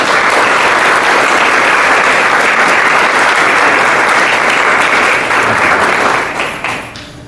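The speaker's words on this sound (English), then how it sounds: "So please give our honoree another round of applause." A large audience applauds an honoree being recognized as Oklahoma Home Extension Educator of the Year, steady dense clapping filling the room for about six seconds before thinning and fading out.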